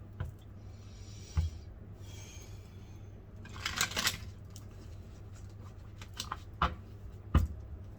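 Tarot cards shuffled once in a quiet room: a short riffling burst in the middle, framed by a few soft taps and thumps over a low steady hum.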